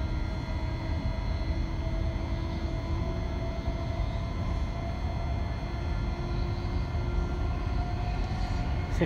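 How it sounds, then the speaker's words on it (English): A Thameslink train accelerates on the stretch between Huntingdon and Peterborough, heard from inside as a steady traction-motor whine over a continuous rumbling drone. "nice acceleration this train makes"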